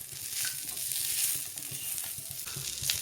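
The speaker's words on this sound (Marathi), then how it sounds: "थोडंसं तेल टाकून घेते मी कोथिंबीरीवर पण," Oil sizzles and crackles over chopped coriander in a pan for spicy green chili thecha, a loud, steady frying hiss with faint stirring.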